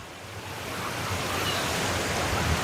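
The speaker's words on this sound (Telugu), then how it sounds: "వాటర్ ఫ్లో చూడండి, మామూలుగా లేదు, ఇది హెవీగా ఉంది" Heavy water pouring out of full ponds, a loud steady rushing roar like surf that swells slightly over the few seconds, with no voices.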